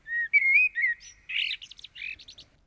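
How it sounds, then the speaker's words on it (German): A male common blackbird sings alone, close and clear, in a few fluting whistled phrases followed by squeakier twittering notes, all within under three seconds with short gaps between phrases. "Das ist eine männliche Amsel."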